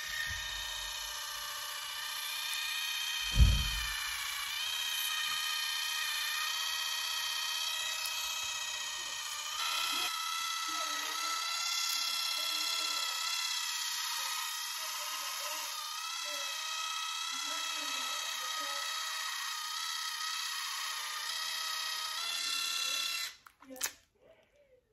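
A Pelzzle electric tooth polisher with a silicone head runs with a steady high-pitched buzz for over twenty seconds before stopping, with a person talking underneath.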